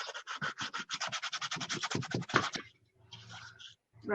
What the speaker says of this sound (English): rub a majority of it off